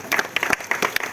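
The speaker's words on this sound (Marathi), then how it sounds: "घ्या टाळ्या वाजवूया आपण। काही टाळ्या वाजत करत आहेत।" People clapping at a community gathering, a short burst of uneven, separate handclaps from a small group nearby.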